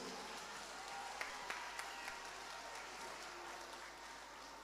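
A community meeting crowd at a Workers Day celebration applauds in a dense, steady wash of clapping with a few sharper claps standing out, heard from some distance.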